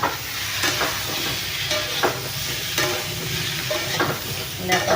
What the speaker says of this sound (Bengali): ফুলকপি আলুটা ভেজে নিই ভালো করে